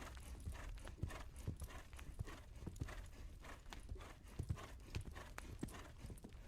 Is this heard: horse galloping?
yes